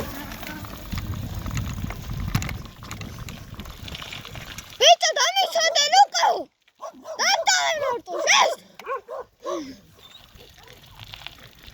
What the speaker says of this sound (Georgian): ძაღლი.